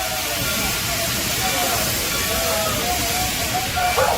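Steady steam hiss from a rail locomotive aboard a fall excursion train, a continuous loud broadband rush with faint tonal whine, holding evenly throughout with no talk.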